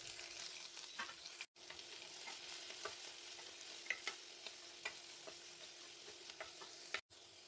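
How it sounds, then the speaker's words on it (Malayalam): Chopped onion, ginger, green chilli and garlic sauté in a pan for poori masala: a steady close sizzle with regular scraping stirs and brief gaps, no talking. "ഒന്ന് വഴറ്റാം."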